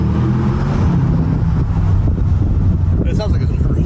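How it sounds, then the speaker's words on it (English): A deep, loud SUV exhaust roar, like a Lamborghini Urus with sport exhaust and no burble, echoes in a tunnel, rumbling steadily with a rising growl near the end. "It sounds like an Urus with like a sport exhaust and no burble."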